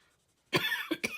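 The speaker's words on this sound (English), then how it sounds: "sorry about the coughing" A person coughs indoors, a sudden close burst followed by two shorter coughs after a near-silent start.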